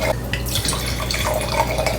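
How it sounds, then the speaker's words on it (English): Unfiltered wine pours steadily from a bottle into a glass, a close, continuous gurgling trickle with small splashes and no talking. "Let's pour it!"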